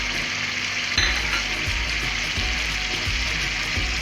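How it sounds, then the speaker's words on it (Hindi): Chicken frying in a pan for chicken nihari, a loud, constant close sizzle with occasional stirring scrapes and clinks, no voices. "अब जब तक इसका कलर वाइट नहीं होता चिकन का, तब तक इसे हम फ्राई करेंगे।"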